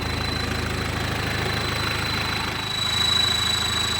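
A vehicle engine idling through a long-tip whistling exhaust pipe, a steady low rumbling pulse with a thin sustained high whistle on top, close and continuous, briefly swelling toward the end, no speech.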